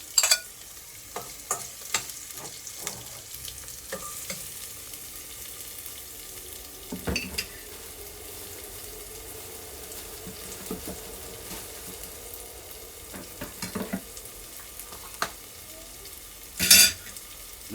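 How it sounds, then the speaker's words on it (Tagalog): Chili peppers sautéed with ginger in a pan for laing give a soft, steady sizzle, with occasional stirring scrapes and light utensil clinks close by. "Pati yung sili, gisa na rin natin."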